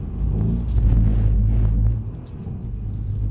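A Mercedes-Benz car rumbles deep and close during a drifting session, its engine swelling with a brief throttle blip before easing back to a lower steady drone, no talk over it.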